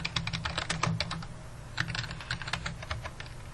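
Rapid, steady keystrokes on a computer keyboard while a research paper is typed, close and crisp with brief pauses between bursts and no voices.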